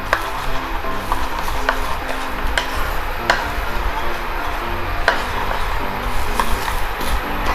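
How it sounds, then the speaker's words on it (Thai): Chili and garlic stir-fry in a pan for a pork and cabbage dish, giving a steady sizzle broken by light, irregular taps and scrapes of a utensil. "นี่เราผัดไปสักพักหนึ่งนะครับ ให้ส่วนของพริกกับกระเทียมมัน หอมขึ้นมานะครับ"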